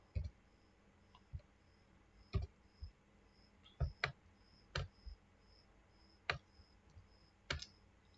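Sparse, quiet keystrokes tap on a computer keyboard while a spreadsheet formula is entered, single clicks spaced irregularly about a second apart with no talk.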